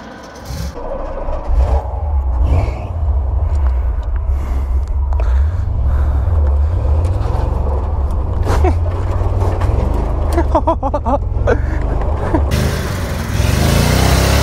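A 1982 Jeep CJ7 with a 5.7 L V8 driving off-road, its engine rumbling and surging unevenly under rattles, scrapes and wind buffeting for the whole stretch, loud and close.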